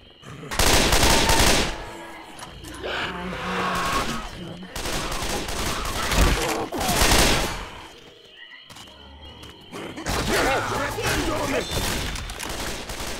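Bursts of automatic gunfire and heavy shooting from the co-op zombie shooter Left 4 Dead 2, loud and repeated in several volleys, with players talking between and over the shots.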